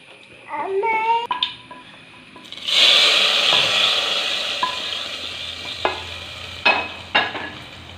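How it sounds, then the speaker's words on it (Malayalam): Sambar gets stirred in a pot with a spoon: scraping, rubbing strokes and a few sharp knocks, with a sustained swell of hissing partway through, heard close and without talk. "ഇത് നമുക്ക് നന്നായിട്ടൊന്ന് ഇളക്കി മിക്സ് ചെയ്യാം"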